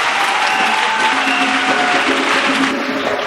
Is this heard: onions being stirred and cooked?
no